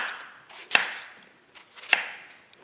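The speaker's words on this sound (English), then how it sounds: "And just cut into pieces." A knife chops a radish into cubes on a cutting board, two sharp, crisp thunks about a second apart with softer scraping sounds between them, close and clear with no talk.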